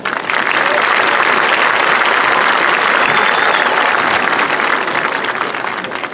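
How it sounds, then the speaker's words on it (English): A large graduation audience at Lincoln High School applauds loudly and steadily, a dense wash of clapping that holds for several seconds with faint cheering mixed in. "Can we get a round of applause for that?"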